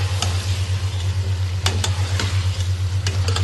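Cauliflower and potato stir-fried in a pan, a steady close sizzle under rhythmic stirring and scraping with a few sharper clicks of the spoon, over a constant low hum, with no voices.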